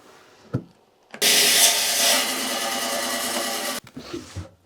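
A saw cutting a 4 to 5 millimeter thick slice off an agate gives a loud, steady grinding hiss that holds for about two and a half seconds, then stops abruptly. Faint clicks and knocks come before and after it.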